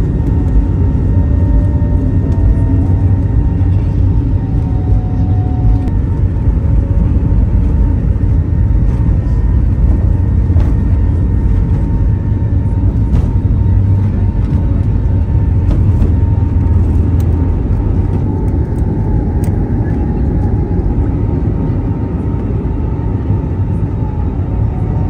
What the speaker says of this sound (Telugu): Ready to take off, runway మీదకి వెళ్తుంది.